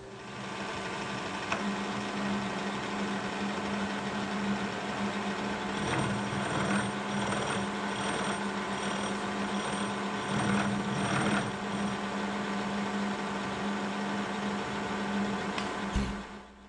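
A Kearney & Trecker milling machine turns at 60 RPM with power table feed, cutting scrap metal in a steady mechanical hum and whir. Rhythmic cutting pulses and chatter run through it, and a short clunk comes near the end, with no talk.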